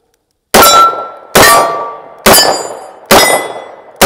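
Four loud metallic clangs from a Ruger SP101 snub-nose revolver's bullets striking a steel target at 10 yards, evenly spaced about a second apart, each ringing out and fading before the next.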